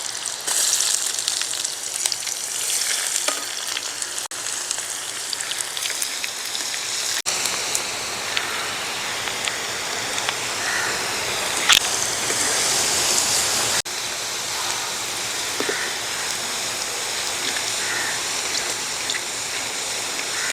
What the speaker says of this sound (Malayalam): നമ്മുടെ ഇഞ്ചി ഇട്ട് കൊടുക്കാം